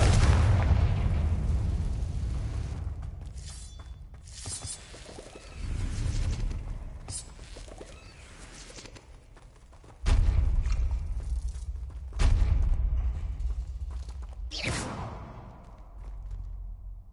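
Confringo blasting spells in Hogwarts Legacy set off a series of heavy booming explosions inside a bone-filled tomb, several separate blasts with whooshing tails and crackling debris, loud and close with short pauses between them.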